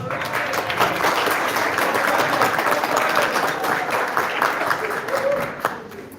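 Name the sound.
wedding guests applauding for Kevin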